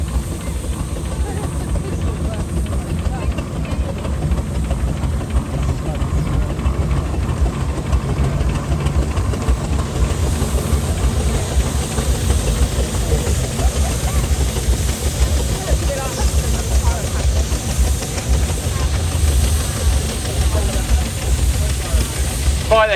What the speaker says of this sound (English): in front of me now is a little 5-inch, Auchin AG engine, built in 1993